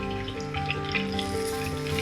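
Stuffed capsicum chicken cutlets frying in a pan, giving a steady, continuous sizzle at moderate loudness over a faint tonal background, with no one speaking.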